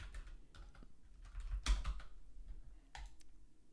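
Clicky keystrokes on a good-quality computer keyboard during a livestream, irregular bursts of sharp taps with short pauses, close and fairly quiet.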